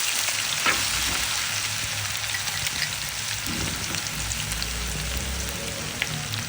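Onion and a spoonful of garlic frying in hot oil in a pot, a steady close crackling sizzle with occasional stirring scrapes, continuous and even with no talking.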